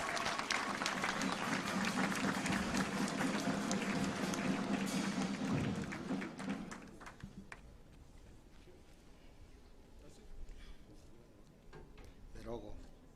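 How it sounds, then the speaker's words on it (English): Audience at a university graduation ceremony in Kenya breaks into loud, dense applause for about six seconds, then it fades to scattered claps and a murmuring crowd in a large hall. "Some clap for that."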